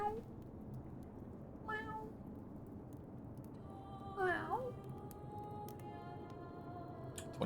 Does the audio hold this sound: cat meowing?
yes